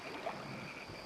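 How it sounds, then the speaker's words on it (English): A frog croaks at night in crocodile country, one brief, faint call set against a steady hum of background noise. "Unless crocodiles jump into the air, that was a frog."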